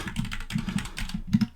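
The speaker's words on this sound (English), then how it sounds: "Cut me off while I was typing." Rapid typing on a computer keyboard, with steady clustered key clicks and a heavier burst of strokes near the end, close and clear with no voices.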